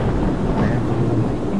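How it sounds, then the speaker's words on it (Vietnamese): Thunder rumbling with steady rain, a loud, dense low roar and hiss that continues throughout with no pauses. "Đó, mưa rồi kìa, mưa rồi kìa."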